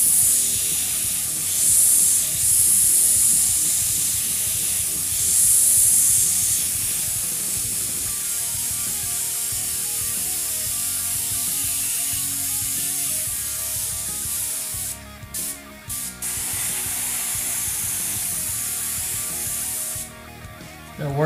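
An airbrush spraying paint through a stencil onto a canvas makes a steady, close, airy hiss that runs on and on, broken by a few brief pauses in spraying near the end.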